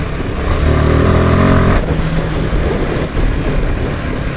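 A Royal Enfield Himalayan 450 motorcycle accelerates in third gear with a loud, close, steady engine drone whose tone shifts partway through, heard alone without speech.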